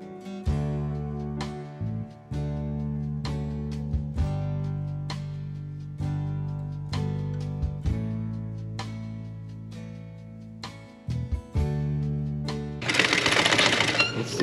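An upholstery sewing machine stitches a practice piece for custom car seats in several rapid bursts separated by short pauses, a close mechanical whirring hum, ending in a louder rattling run.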